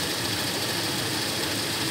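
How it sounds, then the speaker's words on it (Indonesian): A Toyota Kijang carburetor engine idles steadily up close, a loud, even broadband rumble that neither stalls nor shakes. "Tetap jalan, mesinnya nggak mati."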